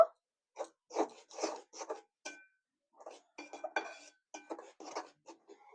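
Grated coconut being mixed in a pot, a quiet series of short scraping and clinking strokes of a utensil against metal, with brief pauses between them.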